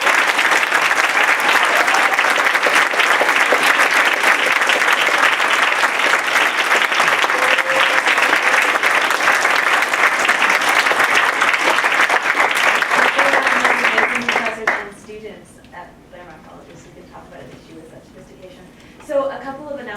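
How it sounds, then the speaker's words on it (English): Audience applause following a panel discussion on divestment, a dense wash of clapping from a large crowd that holds steady, then fades out around the fifteen-second mark, leaving scattered quieter room sounds. "can we please give a big round of applause?"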